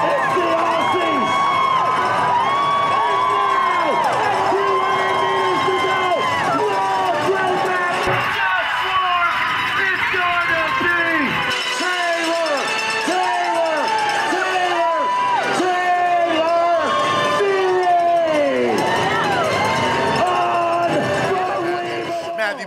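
A loud crowd roaring and cheering continuously at the finish of a USA Pro Challenge 2015 cycling stage, with many overlapping shouts and whistles throughout and an announcer's voice mixed in.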